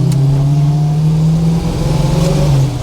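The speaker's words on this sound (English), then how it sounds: "Oh, I love that in between gears there, bro. And then a little rev match." Aussie muscle car with a four-speed manual, its engine droning steadily, then a brief dip in note as it shifts between gears and blips a rev-matching throttle before pulling on again, loud and close.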